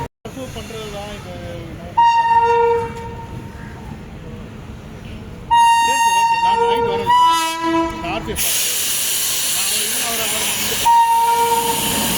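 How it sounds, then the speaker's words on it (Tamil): A loud locomotive horn blasts in long sustained tones, sounding repeatedly as the Vaigai Express approaches with rumbling, hissing rail noise underneath. "லோக்கோ ஹார்ன் வச்சுக்கிட்டே வருது, அதுவே பார்ப்போம் வாங்க"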